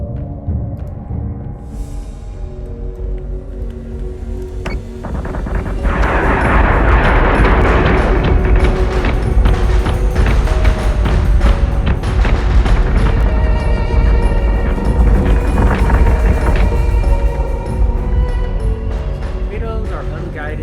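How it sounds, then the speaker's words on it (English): Torpedoes fire in the space combat video game Battlestar Galactica Deadlock, a long run of loud booms and rapid gunfire-like blasts layered with rumbling, with talk heard over the barrage. "Torpedoes are unguided, and if the thing's maneuverable, they miss."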